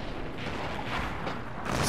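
A PzKpfw IV tier 5 medium tank fires its main gun in World of Tanks, a single muffled boom amid engine rumble and battlefield noise.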